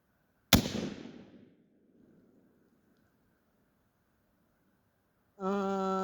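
A single sharp, loud gunshot from a .44 NMA black powder revolver fired with a magnum load, with a decaying boom and tail fading over about a second, followed later by an unrelated tonal hum.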